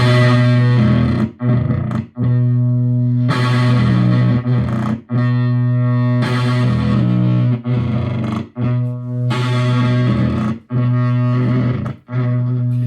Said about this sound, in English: the battery's dying on the amp, and I love that sound